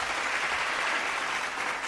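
Clapping sound effect played from a soundboard, a steady wash of applause at moderate level throughout the short stretch, with no talking over it.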